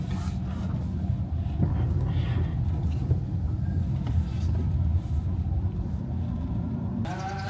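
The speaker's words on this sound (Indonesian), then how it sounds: "Kita parkir di sini ya." A car engine idles and rumbles low and steady while parking, a close, dull continuous drone throughout.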